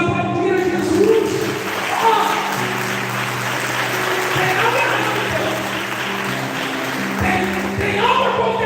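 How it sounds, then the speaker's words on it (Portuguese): A church congregation applauds together at a 62nd anniversary service in Bagé, Rio Grande do Sul, a dense, steady wash of clapping over sustained music. "Vamos aplaudir a Jesus"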